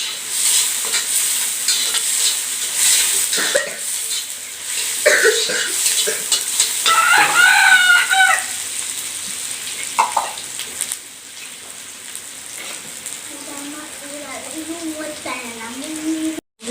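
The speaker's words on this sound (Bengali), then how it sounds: "পেঁয়াজটা ভাজা হয়নি, ভালোভাবে ভাজা হবে" Onions fry in a pan while a cook stirs, a close sizzling hiss broken by scraping and clattering strokes; tonal voice-like sounds surface midway and near the end.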